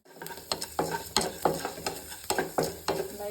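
Chana dal frying in oil in a hot pan, bursts of sizzle and crackle arriving in a quick irregular rhythm, up close and loud.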